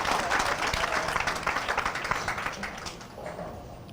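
A hometown crowd at New Central Lanes bowling alley applauds with a dense, steady burst of clapping that fades toward the end, with voices heard faintly underneath.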